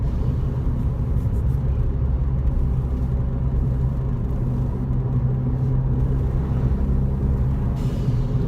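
Steady, loud engine and road rumble inside a car driving along, fitted with an MBRP exhaust, Mountune tune and Boomba blow-off valve adapter. The tone is even, with no distinct valve whoosh standing out and no talk.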